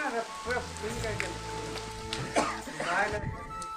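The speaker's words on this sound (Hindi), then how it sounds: "बहुत बारिश हो रहा है, देख लीजिए भाई।" Heavy rain pours down at Jaigarh Fort, a steady close hiss running through the whole stretch beneath several people talking over it.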